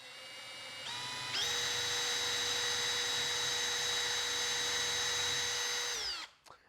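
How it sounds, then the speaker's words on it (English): A power drill whirs steadily at close range boring into oak wood, its pitch stepping up as it bites in, then spinning down abruptly at the end. "Now it's good practice to move in and out as you drill"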